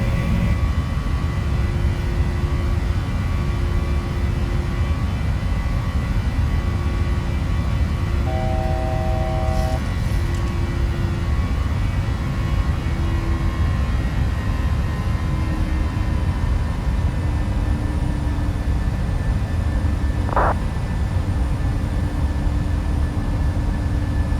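Cabin drone of a Boeing 737 airliner in flight in the PMDG flight simulator game, a steady low engine rumble with faint tonal hums, continuous and unbroken with no talk.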